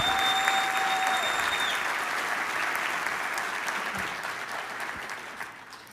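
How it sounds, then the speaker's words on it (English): Applause from a crowd of several hundred at a business seminar, steady and full at first and gradually tapering off over six seconds. "Let's give Beth a loud round of applause as she makes her way to the stage."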